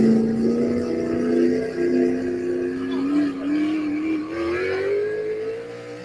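A four-wheel drive Pro Mod truck at an NHRA drag racing event, its engine note rising and wavering through a loud sustained run, heard over some crowd or background noise.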